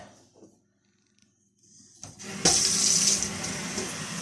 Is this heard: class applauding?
no